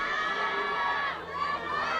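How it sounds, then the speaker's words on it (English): A crowd at a softball game lets out continuous cheering and shouting, fairly distant and steady across the moment, with a slight dip and swell. "We get some cheers from the crowd."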